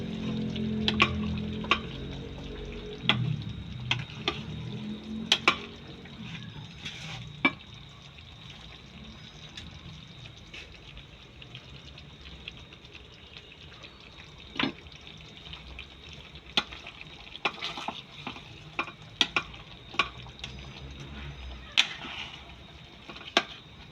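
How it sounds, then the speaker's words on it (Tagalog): Malunggay leaves are stirred into a simmering fish and coconut milk stew in a pot, with a steady bubbling hiss broken by scattered scrapes and clinks of the spoon. "haluin natin para masarap maluto yung dahon ng malunggay"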